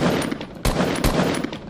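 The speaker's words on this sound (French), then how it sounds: "Le cube explose toujours." Gunfire in Fortnite at a cube that explodes: rapid bursts of shots with two sharp, loud blasts standing out over a dense, continuous game soundscape.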